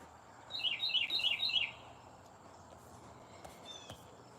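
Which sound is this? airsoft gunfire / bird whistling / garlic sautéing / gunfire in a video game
bird whistling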